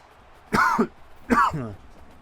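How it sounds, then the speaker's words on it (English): Two short throat-clearing coughs from one person, close and fairly loud, spaced about a second apart against a quiet background during football game commentary. "Excuse me, on the coughing there."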